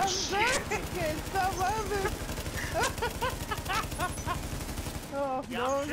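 Rapid automatic gunfire in The Division video game, a fast, steady stream of shots throughout with people talking over it.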